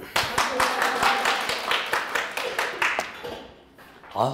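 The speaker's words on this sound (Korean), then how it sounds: "박수 소리가 아주." Audience clapping in a lecture hall, a fast run of distinct individual claps blending into brisk applause that thins out toward the end, with a voice coming in at the finish.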